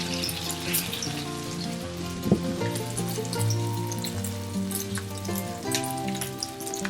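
Beef chapli kababs shallow-fry in about a cup of hot oil, giving a steady, dense sizzle and crackle close by, with faint background tones and no talking.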